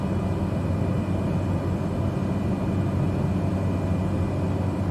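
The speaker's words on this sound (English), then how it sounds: "So we're gonna bring up the throttle." A Cessna's engine in Microsoft Flight Simulator 2020 gives a steady, droning propeller rumble that fills the cabin as the throttle comes up, constant and fairly loud with no talking.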